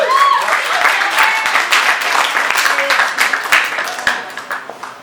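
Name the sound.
audience applause for volunteer approaching stage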